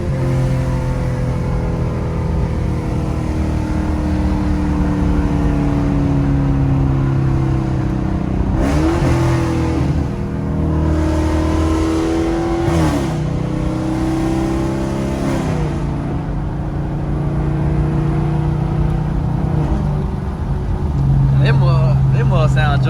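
A 2017 Chevrolet Camaro SS V8 fitted with Speed Engineering headers, idling loud and close with several rising revs in the middle, while people talk over the engine.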